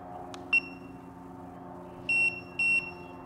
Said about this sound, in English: that long beep with the code showing to let you know that you've got it in there